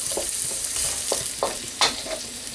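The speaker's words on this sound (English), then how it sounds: "I'm adding the onion, and I'm going to just sweat this down gently until it's softened" Chopped onion sweating gently in a pan gives a soft, steady sizzle with a few brief scraping stirs, close and with no voices.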